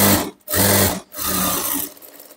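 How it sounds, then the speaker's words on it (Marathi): A sewing machine stitches the lining of a katori blouse in three close, steady whirring runs separated by short pauses. "इथे अस्तरवरती दाब शिलाई द्यायची आहे"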